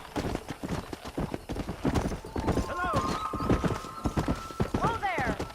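Rhythmic clip-clop of a horse's hooves at a gallop in Red Dead Redemption, steady and close, with a horse whinnying and voices and game music over it.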